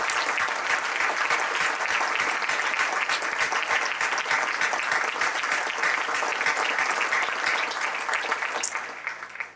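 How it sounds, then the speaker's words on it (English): Sustained applause from a banquet audience honoring agricultural hall of fame inductees, a thick, even roar of many hands clapping that carries on steadily before fading out at the close. "Final round of applause."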